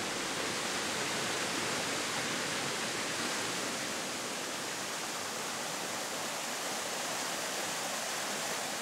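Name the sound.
river Omilinga flowing in the forest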